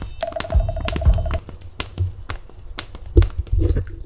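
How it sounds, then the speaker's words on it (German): Someone cracks the joints of their feet, producing a series of sharp, close clicks and pops in an irregular rhythm, with a faint steady tone audible behind them. "Ich kann meine Füße knacksen."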